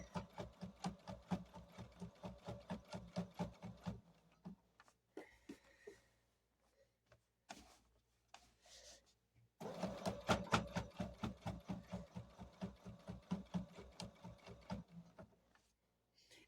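A sewing machine stitches in the ditch on a quilt, quiet and close. It runs in rapid rhythmic bursts of needle strokes, pauses with soft handling noises, then resumes louder and faster.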